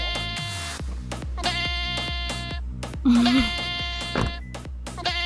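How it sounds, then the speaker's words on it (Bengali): A phone ringtone of a goat bleating rings inside a car, with repeated electronic bleats in a steady rhythm, loud and close, while people talk over it. "ছাগল না, আমার ফোনের রিংটোন।"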